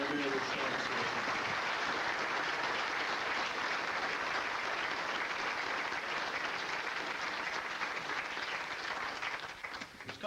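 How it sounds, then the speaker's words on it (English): A hall of fame ceremony crowd for Enfield athletics breaks into sustained applause from a large indoor audience, dense and steady clapping throughout that tapers slightly at the very end. "So those folks need a round of applause"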